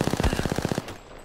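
Gunfire in the video game Apex Legends: a rapid, loud burst of about ten evenly spaced automatic shots, then a short fading tail.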